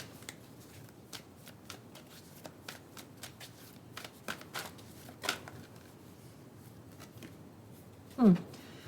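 Tarot cards are shuffled close by in quick, soft riffling bursts, with a sharper snap of cards near the end.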